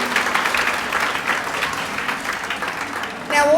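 A crowd at an awards event claps enthusiastically, sustained applause filling the room, with a few voices and cheers mixed in before it fades.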